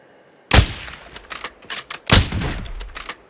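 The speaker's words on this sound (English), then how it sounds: "Mortar strike." Mortar strike explosions in Call of Duty: Modern Warfare II: two heavy, close blasts roughly one and a half seconds apart, each followed by a scatter of debris thuds and crackling impacts, with no talking.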